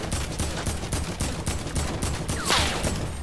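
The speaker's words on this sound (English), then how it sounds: "Oh, you got sniped." Gunfire in the Fortnite video game, a rapid run of sharp evenly spaced shots with a brighter crack near the end, loud and close, with no talk.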